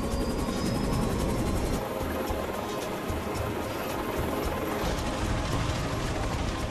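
A helicopter flying over the North Sea gives a steady, loud rotor and engine drone with a rapid rhythmic chop, continuous and alone throughout.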